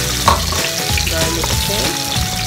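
Garlic dropped into a hot frying pan for a Japanese-style peperoncino with cucumber, setting off a loud, close sizzle that crackles and spits steadily.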